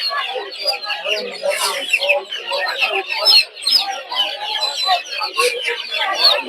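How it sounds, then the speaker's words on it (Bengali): Farm chickens at a poultry market cluck and squawk continuously, a busy flock heard close up with overlapping calls throughout. "আর এদিকে আছে হচ্ছে কিছু ফার্মি মুরগি"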